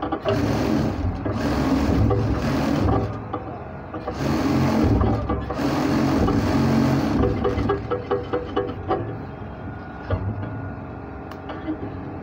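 A sewing machine runs a double stitch along a trouser seam in long loud whirring bursts with brief pauses between them, then tapers into lighter intermittent ticking and clicks toward the end.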